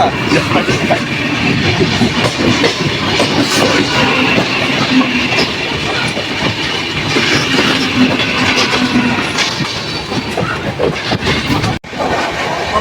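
Aboard the 13153 Gour Express at night, a continuous loud rumble and rattle of the moving coaches with rhythmic track clatter, steady throughout with a brief dropout near the end.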